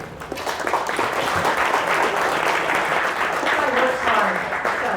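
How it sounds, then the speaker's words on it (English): Audience applause greets a host at a museum speaker series talk, steady clapping across the room with some voices mixed in beneath. "A couple of applause for Dick."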